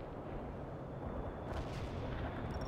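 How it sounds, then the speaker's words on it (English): Heavy booming artillery and gunfire in the World in Conflict strategy game roll continuously in a low rumble, with sharper distant cracks partway through and no talking. "They're firing at us!"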